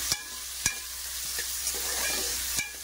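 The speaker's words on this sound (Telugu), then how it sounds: "ఇందులోకి ఒక టమాటా, ఒక ఉల్లిపాయ అండి. ఇది కూడా కొద్దిగా ఫ్రై అవ్వాలి." Tomato and onion fry in a pan for mutton masala curry, a steady soft sizzle broken by a few sharp spoon scrapes and stirring knocks, close and fairly quiet with no talking.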